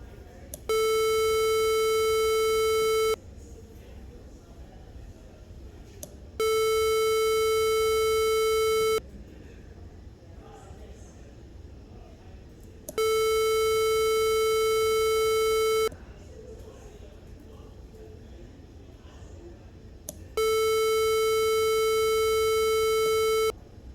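A piezo buzzer driven by an Arduino UNO sounds four loud, steady electronic beeps, each about two and a half seconds long, separated by pauses of a few seconds with faint background hiss.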